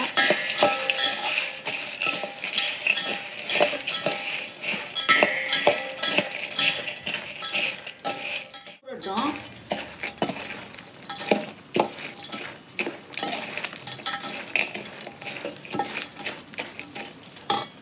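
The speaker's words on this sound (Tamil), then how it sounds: "அந்த கம்பி பதமாக எடுத்த பாகை கொஞ்சம் அதில் ஊற்றி தேவையான அளவு ஊற்றி இப்படி கிளறுங்க" Sugar syrup poured into a laddu mixture in a pan and stirred, giving steady close scraping and clinking of a metal spoon against the pan over a faint sizzle, with a brief shift partway through.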